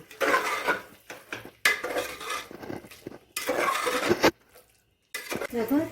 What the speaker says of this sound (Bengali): দেখো চিকেনটাকে এইভাবে ভালো করে নেড়ে নেব